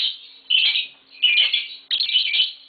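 A pair of green Fischer's lovebirds chirping in a home, three bright bursts of shrill twittering, close and loud, separated by short pauses, with no talking.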